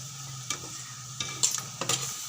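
Shark fish pieces going into a pan of fried onions, a steady sizzle under a low hum, broken by a few scraping stirs and clinks at close range.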